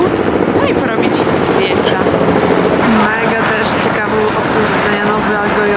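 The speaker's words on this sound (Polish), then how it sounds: "A tych helikopterów jest naprawdę sporo, tam leci kolejny." A helicopter flies over New York, its loud steady rotor and engine roar dominating an outdoor observation deck, with traffic-like rumble beneath and brief tonal whines from other aircraft.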